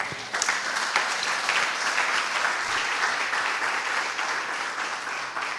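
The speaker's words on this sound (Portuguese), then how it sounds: "Aplauda o Senhor." A church congregation claps continuously, dense and steady applause filling the space for several seconds without a break.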